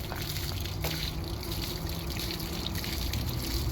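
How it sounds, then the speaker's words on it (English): Water draining steadily out of an A.O. Smith 2.5-gallon water heater, a continuous trickling flow at close range with no talking over it. "Just let it drain out instead of in your truck."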